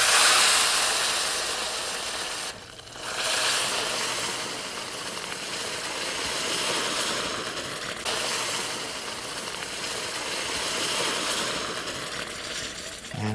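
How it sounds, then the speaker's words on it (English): Boiling liquid poured onto semolina grains in a pot gives a steady, loud seething hiss and sizzle that runs on for several seconds with brief dips, with no talking. "Bring your liquid to the boil like so, and now we're ready to add our liquid to our grains"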